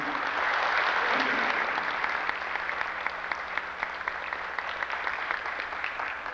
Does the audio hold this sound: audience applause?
yes